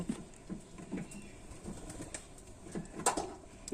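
Two young pet pigeons kept in a cage give soft, low cooing calls and faint wing shuffles in a quiet room, with a brief brighter rustle or flutter near the end.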